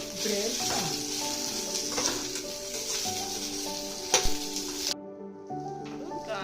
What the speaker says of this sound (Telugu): దీంట్లో వన్ టేబుల్ స్పూన్ జీలకర్ర కూడా వేసి వేగించుకోవాలి